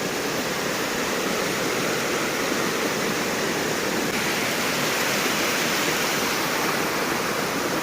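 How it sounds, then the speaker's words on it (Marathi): Water pours without pause from a tank in the Konkan countryside, a steady, loud, broadband rush like a small waterfall that holds even for the whole stretch, with no voices over it. "इथून पाणी आधी सोडलं जातं सोडलं जातं म्हणजे चोवीस तास कंटिन्यू पाणी चालू असतं"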